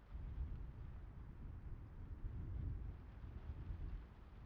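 Steady rain falls outside in the horror video game Layers of Fear, a low rumbling wash that stays soft and continuous with no voices.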